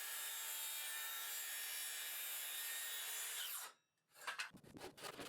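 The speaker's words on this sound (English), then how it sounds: "the cut is completed with a handsaw" Handsaw cutting cedar wood, a few quick rasping back-and-forth strokes near the end following a long steady hiss.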